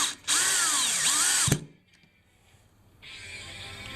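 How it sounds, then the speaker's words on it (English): A power drill whines loudly and steadily into a wood project for over a second, cuts off with a sharp clunk, then after a short quiet gap spins up again more softly. "So now we'll drill the other two"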